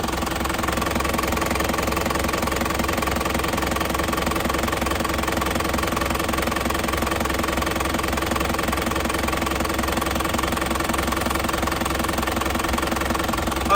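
A warm 2004 Black Panther Limited Edition motorcycle engine idles steadily and loudly, a constant close-up mechanical drone with a faint knocking rhythm and no talk.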